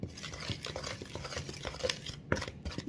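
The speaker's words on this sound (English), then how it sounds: "you want to make sure that you whisk this real good" A whisk stirring cookie dough ingredients for Junior Mint cookies in a bowl, a quick steady patter of light tapping and scraping strokes, close up and continuous with no talking.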